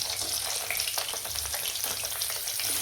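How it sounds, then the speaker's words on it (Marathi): Eggplants fry in hot oil in a home kitchen, giving a steady, close sizzle throughout with no talking. "मी अगोदरच तेल तपलेलं आहे आता वांगे सोडणार आहे त्याच्यामध्ये"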